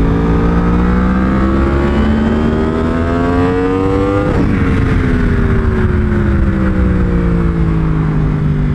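A 2019 Yamaha R1 screams up through the revs on a race track, a loud, close engine wail climbing in pitch, a brief dip at a shift, then a gradual wind-down.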